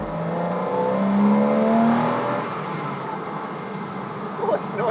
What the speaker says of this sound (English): Oh, it's noisy. Feels like a little race car.